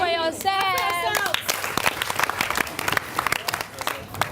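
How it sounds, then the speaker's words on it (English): Children clapping for themselves at a reading visit, a burst of scattered hand claps that follows a brief voice at the start and keeps up unevenly before fading. "Clap for yourself."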